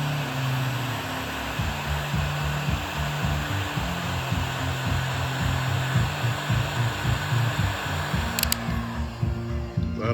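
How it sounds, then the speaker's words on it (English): Heat gun shrinking heat-shrink tubing over an automotive butt connector, a steady close blowing roar with a low fluttering motor hum that runs throughout, with a brief faint click near the end. "heat up the shrink wrap"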